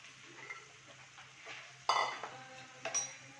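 Half a kilo of prawns tipped into a pan for a tawa fry land with a sudden clatter and brief sizzle, followed by a few scraping stirs and clinks of a utensil against metal.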